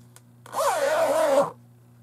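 A single zipper pulled along a bag for about one second, close and crisp, over a low steady hum.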